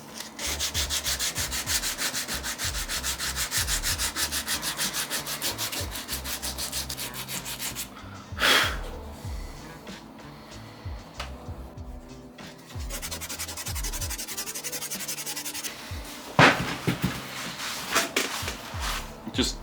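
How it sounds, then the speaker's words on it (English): A carved lime wood leaf panel is sanded by hand with steady, close rasping rubs, broken by a short pause and a few sharper scrapes. "I think I'm going to sand"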